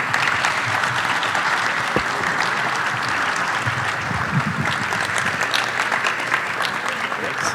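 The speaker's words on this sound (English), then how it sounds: "Please join me in a round of applause for our special guest" A live audience at a center-court event applauds a special guest, former basketball player Craig Ehlo, with loud, continuous clapping and crowd noise filling the whole stretch, with faint voices underneath.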